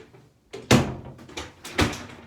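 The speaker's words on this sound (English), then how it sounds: "I'm going to close the door before the wife comes home" A house door swings shut with a solid thud, followed by a second bump or latch sound a second later, close by and alone in a quiet room.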